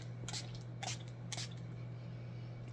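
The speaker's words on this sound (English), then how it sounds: "Going to mist my face." Three quick hissing bursts of makeup setting spray misted onto a face, short soft sprays spaced about half a second apart over a quiet steady hum.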